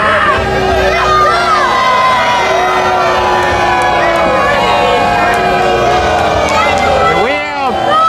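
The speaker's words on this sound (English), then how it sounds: "We have hundreds of bodies booing from all sorts of directions right now." A large crowd at a live pro wrestling show yells and boos from all around the arena, a loud, continuous mass of shouting and jeering voices with rising and falling calls throughout.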